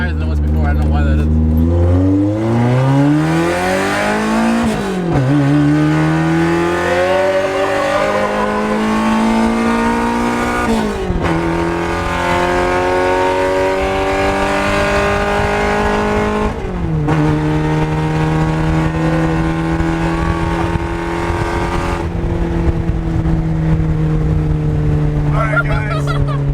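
A Toyota AE86 engine revs hard through repeated climbs and gear shifts while driving, loud and close throughout, with brief drops at each shift before pitch rises again.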